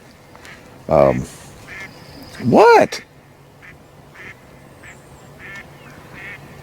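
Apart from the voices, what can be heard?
ducks quacking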